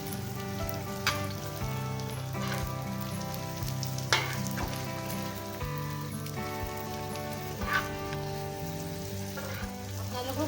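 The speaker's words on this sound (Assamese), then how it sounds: "এয়া মই ব্ৰেড ফ্ৰাই কৰি আছোঁ, এতিয়া এইদৰে ফ্ৰাই কৰিছোঁ, ফ্ৰাই কৰি লওঁ।" Slices of bread frying in a pan, a steady close sizzle with soft crackling pops throughout and no talking.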